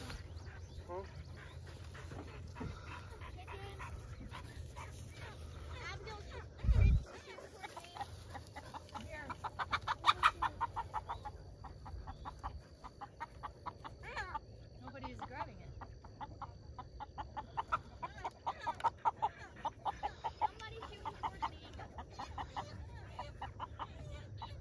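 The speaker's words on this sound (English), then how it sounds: "Guys, there's chickens trying to go inside." Chickens cluck and squawk in a yard amid background noise, with a brief loud thump partway through and people talking intermittently.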